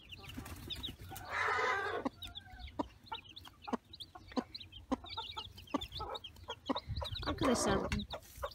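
Turkey hens cluck and call near their chicks in a farmyard, with repeated short close calls, a few louder squawking bursts and faint peeping over a low background rumble.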